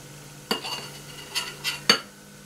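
Bagels lifted out of a pan in a home kitchen, four short scraping, clinking knocks of utensil against metal with a faint sizzle in between, close and fairly quiet.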